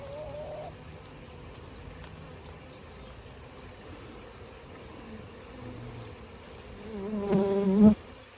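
Dense swarm of honey bees buzzing during introduction of about 20,000 bees and two queens to a new hive; a steady low hum throughout, swelling into a louder, closer burst of buzzing near the end.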